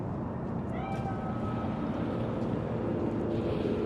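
A Bakeneko cat spirit in the video game Cyberpunk 2077 gives a brief, fairly faint meow, heard over a steady low rumbling drone.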